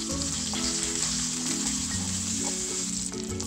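Onion and garlic sauté in hot oil, giving a continuous, even sizzle that stays steady and close throughout with no voices.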